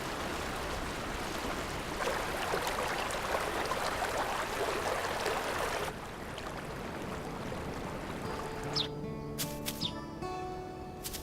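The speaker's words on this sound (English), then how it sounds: "the snowmelt streaming down from the mountains offer an endless supply of water" A snowmelt stream flows through a forest wetland in southeastern Tibet near Basum Co, a steady soft rushing of water with occasional bird chirps and whistling calls near the end.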